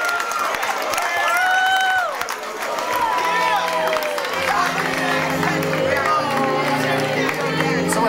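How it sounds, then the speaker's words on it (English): A crowd applauds and cheers loudly at a bar mitzvah party, with whoops and shouting voices rising over continuous clapping throughout. "Big round of applause, everybody."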